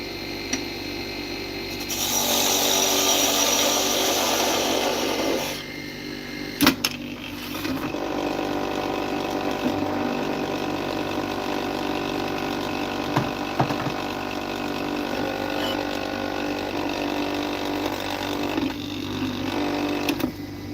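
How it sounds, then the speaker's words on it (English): A wood lathe rattles steadily with its tailstock left unlocked, a continuous loud grinding clatter broken by a few sharp knocks and a brighter whining stretch near the start. "It's like, what's rattling so bad? I just didn't have the tailstock locked down."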